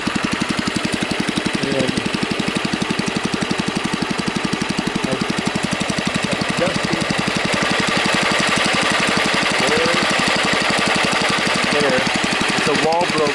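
A Husky motorcycle engine with a Walbro carburetor, running well at low speed but failing at high speed, chugs with a steady, rapid firing rhythm at close range throughout, loud and continuous with a brief voice over it.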